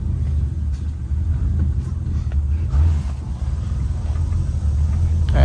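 A 1963 Ford Fairlane 500 hardtop with its original 260 V8 gives a close, steady low rumble throughout, with no clear change in level and no talk.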